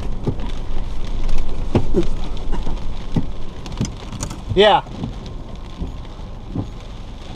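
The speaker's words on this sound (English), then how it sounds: "it just started raining" Rain starts falling on a car during a storm while chasing a tornado near Elmer, Oklahoma, a steady patter with scattered louder knocks, a brief squeak near the end and a short spoken word.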